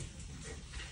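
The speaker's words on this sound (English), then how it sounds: "my puppies are fighting over a bone right now. So that's what you're hearing." Two puppies scuffle over a bone indoors, a close, continuous jumble of low growls and whimpering squeals with no clear pauses.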